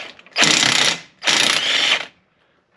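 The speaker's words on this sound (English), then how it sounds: "I got the big impact right here and we'll try to take it off without moving it" An impact wrench breaks a bolt loose on a 2004 Ram with the 4.7 engine, firing two loud rattling hammering bursts of about half a second each, close up, separated by a short pause.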